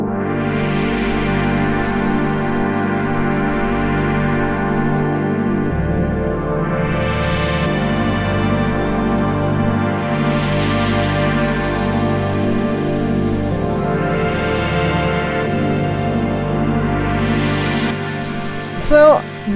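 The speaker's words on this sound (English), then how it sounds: "the first sound that we have here is the pad" Lush synth pad chords from a chill rave track, sustained and swelling in slow waves, each chord blooming and fading over several seconds, loud and alone with no voices.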